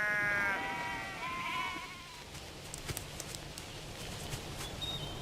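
Sheep on a vast sheep station bleat loudly and close at the start, a couple of wavering calls overlapping, then fade. Scattered soft clicks and footsteps follow over quiet outdoor ambience.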